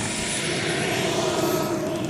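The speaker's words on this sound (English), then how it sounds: "That was about a 100-mile-an-hour pass, averaging in the A4." A radio-controlled model A-4 jet makes a fast flyby at about 100 mph at an R/C airshow, a steady loud rushing engine roar that holds through the pass.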